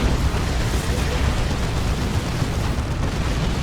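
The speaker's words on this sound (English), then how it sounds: "That's a Basilisk Flare from the Lord Commissar." Basilisk Flare artillery strike called in by the Lord Commissar in the strategy game Dawn of War 2, a dense, loud rumbling roar of explosions that fills the whole stretch with sustained low-heavy blast noise.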